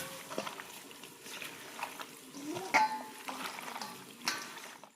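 Meat being stir-fried by hand in plenty of oil, a soft steady sizzle with scattered scraping and clinking stirs, moderately close, with no talk.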